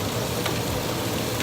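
Onions frying on a hibachi griddle at home, a steady, dense close sizzle with faint scraping of a utensil, no voices.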